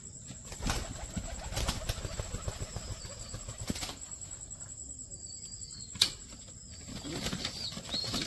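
Pigeons in a new loft flutter their wings in several short bursts, moderately close, over a steady chirping of crickets and a faint background hum.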